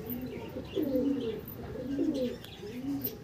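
Andhra pigeons coo nearby in three low, rolling, throaty phrases spaced about a second apart, quiet and alone with no talk.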